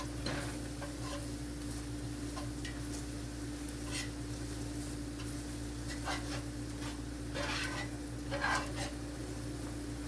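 Gravy stirred as it thickens in a hot frying pan, a steady close sizzle with scattered scraping and clicking strokes throughout, no speech.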